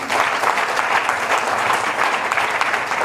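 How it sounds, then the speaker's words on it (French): An audience at an event launch applauds the organizing committee, a full, even roar of many clapping hands that holds steady from start to finish. "on peut les applaudir s'il vous plaît."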